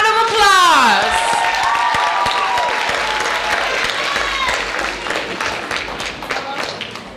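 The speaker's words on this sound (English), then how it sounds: "let's give Division 2 a round of applause" Audience applause at an oratorical contest and art competition event, following a whistle-like tone at the start; sustained dense clapping from a crowd that gradually fades over several seconds.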